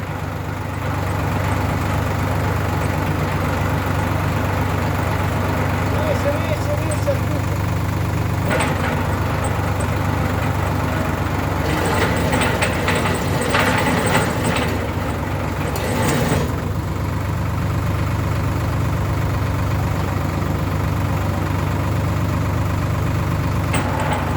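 A Solis 50 diesel tractor engine runs at a steady, heavy low rumble close by, with a few louder rattling bursts partway through; the tractor carries a 1.95 m rotary tiller.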